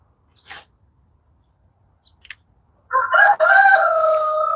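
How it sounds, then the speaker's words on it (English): Backyard homestead rooster gives a loud, close cock-a-doodle-doo near the end, preceded by a couple of faint brief clucks in otherwise quiet surroundings. "I'm going to go make this rooster be quiet real quick."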